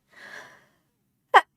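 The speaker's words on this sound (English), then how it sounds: "Sorry, I'm gonna sneeze." A faint breathy inhale builds up, followed after a pause by a single sharp, loud sneeze.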